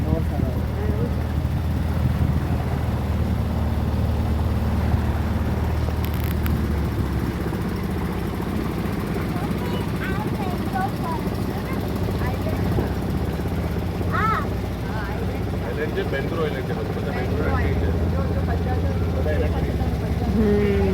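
A boat motor drones steadily on a Kerala backwater as the boat passes through mangrove forest, a continuous low rumble heard throughout while people talk over it.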